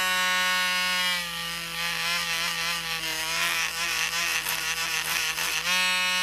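Small cheap Harbor Freight rotary tool with an attachment scrubbing rust off washers, a steady close high-pitched whine with a grinding rasp that wavers as it presses into the metal.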